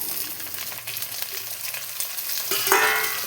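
Chopped onion and tomato fry in a pan with ginger, garlic and green chillies for an anchovy curry, giving a steady close sizzle that swells louder near the end as the ingredients are stirred.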